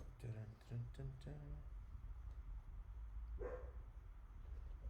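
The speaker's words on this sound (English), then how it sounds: "What you barking at?" Several short barks from a dog early on, fairly close, followed by quieter sounds over a steady background hum.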